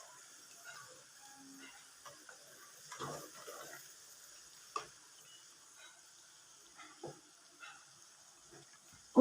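A spoon stirs Indian gooseberry pickle, mixed with roasted ground mustard and fenugreek, in a pan in a village kitchen, giving faint scattered scrapes and soft sizzling with a few sharper knocks.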